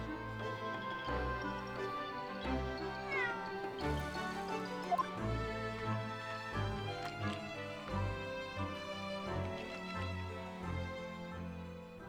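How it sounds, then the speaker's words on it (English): A cat meows in The Great Ace Attorney Chronicles, with a few short mews set against steady game background music, moderately loud. "I wonder how he got in here. Clever cat."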